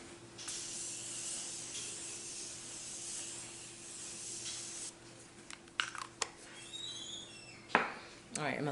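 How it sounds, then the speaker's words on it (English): Morphe setting spray hisses onto a face in one long steady burst, followed by a few short sharp spritzes and light rustling, close and fairly quiet. "I'm gonna set my face with the Morphe setting spray."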